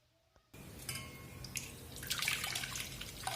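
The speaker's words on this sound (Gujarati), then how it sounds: "હવે આપણે આ શરબતને એક તપેલીમાં લઈ લઈશું।" Homemade jamun sherbet is poured into a pot, a soft trickling, splashing stream of liquid that starts abruptly after a brief quiet moment and continues, building slightly, with no voices.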